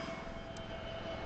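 Airbus A321neo jet engines roar steadily at Gold Coast Airport, a broad continuous rumble and whine from a distance with no break in the sound.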